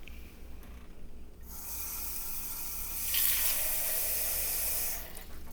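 A kitchen tap runs off to the side while Korean kimchi is being made, a steady close hiss of flowing water that swells louder midway, then cuts off near the end.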